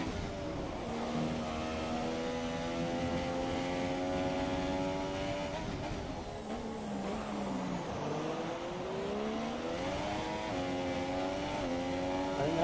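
Onboard engine of a Formula 1 car in F1 2017 at the Bahrain race, a loud, steady high-pitched whine that rises through gears and dips on braking, with no talk.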